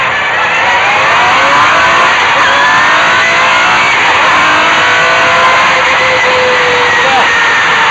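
An MG Metro 6R4 Group B rally car is driven on the road, its engine roaring loud and close as it accelerates hard, with a continuous whining rise in pitch.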